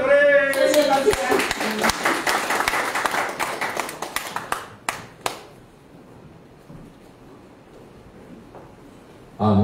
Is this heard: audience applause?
yes